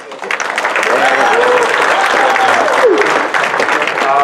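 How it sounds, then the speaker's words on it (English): Banquet audience at a motorsports park breaks into sustained applause, dense steady clapping filling the room with a few voices mixed in. "So let's have a big round of applause for Matt Brewer."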